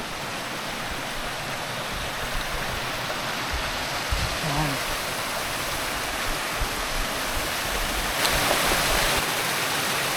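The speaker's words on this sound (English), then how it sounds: "Right, I found one of the smaller waterfalls, very nice." Constant rushing water from a small waterfall and flowing river at Hendre'r Mynydd fills the clip, steady and close, with a brief faint voice partway through.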